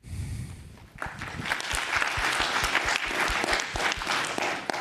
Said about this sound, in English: Maybe clap your hands if you agree.